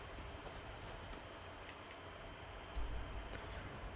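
Rain falling in Skyrim, a quiet constant hiss of drops on the ground with faint ticking, rising slightly louder near the end, no voices.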